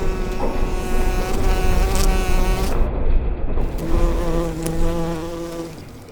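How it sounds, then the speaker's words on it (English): Wasps buzz close by after a nest flies out of an RS1's exhaust, a dense droning whine that rises and falls over a low rumble, with no voices. "A freaking wasp nest just flew out of the exhaust"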